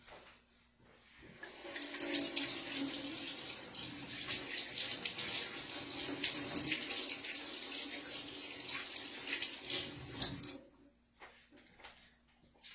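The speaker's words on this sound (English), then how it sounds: "Let me just wash my hands." A tap runs steadily in a home kitchen as hands are washed during cooking, a loud continuous rush of water for about nine seconds that starts and stops abruptly.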